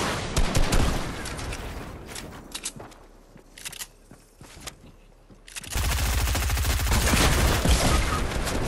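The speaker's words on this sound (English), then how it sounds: "He just used a rocket launcher." Rapid explosive gunfire bursts from a rocket launcher fight in Fortnite, loud and dense at the start, thinning into scattered shots, then a sustained heavy barrage of blasts to the end.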